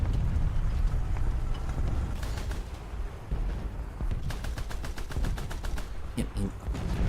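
Rapid bursts of naval gunfire from a warship in War Thunder's naval battles crackle over an engine and water rumble, with a speaking voice heard at times.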